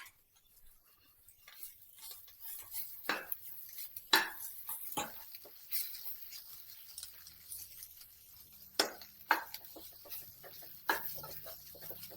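Mint and coriander fried with masala in a pan for a Karnataka-style goat mutton sambar, with a spatula clinking and scraping against the metal in scattered, quiet strokes over a faint background hiss; no one speaks.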